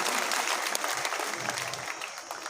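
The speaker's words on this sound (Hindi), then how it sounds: "उनके लिए जोरदार तालियां साथियों" A crowd at a farmers' gathering in Gulkani gives loud, dense applause in tribute to martyred farmers, a thick continuous clatter of many hands with a few low voices mixed in.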